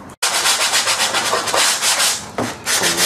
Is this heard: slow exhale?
no